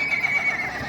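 A one-year-old foal, up for sale, lets out a short, close whinny with a wavering high tone, about a second long, heard alone.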